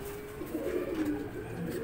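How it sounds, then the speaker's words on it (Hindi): Jadugar breed pigeons cooing close by, soft low burbling calls rising and falling in a short continuous sequence, with faint background voices. "ये जादूगर कबूतर"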